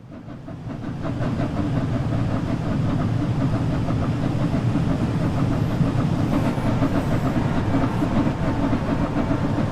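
Steady hiss and roar from a steam locomotive in Train Sim World with the driver's injector running, a continuous loud rushing wash over low rumbling and faint rhythmic wheel clatter as the train slowly gathers speed.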